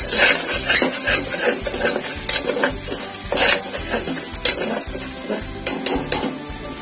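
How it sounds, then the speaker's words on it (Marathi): Asafoetida and spices are stirred in a sizzling pan while making Maharashtrian alu chi patal bhaji, with a steady rhythmic scrape of a spoon against the metal over loud, close frying sizzle. "हे सगळं आपण आता मिक्स करून घेऊया"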